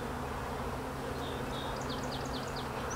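Honey bees hum in a dense, continuous buzz during a hive inspection of a new nuc, close and steady, with faint higher whines of individual bees passing near.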